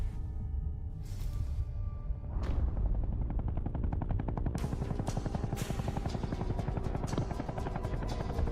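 Helicopter in the Far Cry video game, a loud steady rotor thump and engine roar throughout, joined partway by rapid bursts of gunfire and busy combat noise.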